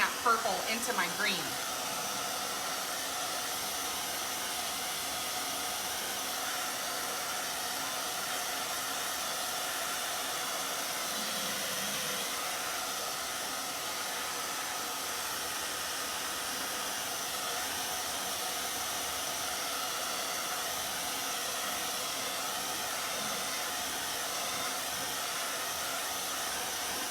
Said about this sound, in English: let me just hit it with the blow dryer right quick and try to get some of these edges dry